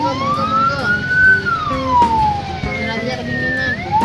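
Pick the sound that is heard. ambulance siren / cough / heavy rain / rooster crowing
ambulance siren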